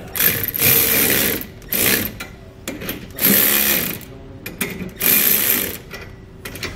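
A ratchet tightens U-bolt nuts on a trailer leaf spring for an 8,000-lb axle, with close, loud bursts of rapid clicking separated by short pauses.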